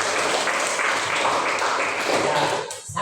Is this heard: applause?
yes